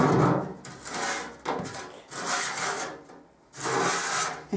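Dust and chain lube scraped off a Triumph Tiger motorcycle, heard as several close, rough rasping strokes in rhythmic passes with short pauses between them, and no talking.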